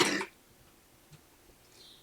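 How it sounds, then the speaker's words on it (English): A single short, loud cough close to the microphone, followed by near silence with faint small sounds. "I apologize for my cough coming."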